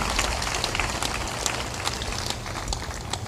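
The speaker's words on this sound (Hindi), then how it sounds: "ताली बजाकर अभिनंदन करो।" A seated audience at a spiritual gathering applauds to welcome an arriving guest, many hands clapping in a dense, even patter that holds steady at moderate loudness, with no talking over it.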